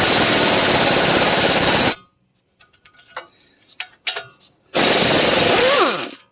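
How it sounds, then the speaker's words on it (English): An impact wrench hammers through an ANBULL 1/2-inch drive 6-point universal impact socket on a bolt gummed up with Loctite. Two loud, sustained rattling bursts come up close, separated by a quiet stretch of faint clicks and handling sounds. "universal impacts like this just zap the power out of an impact. But the socket's holding up. This is a very powerful impact."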